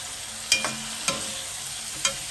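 Bitter gourd, shrimp and tomato stirred in a pan, with three sharp scraping strokes about half a second apart over a steady sizzle and no voices.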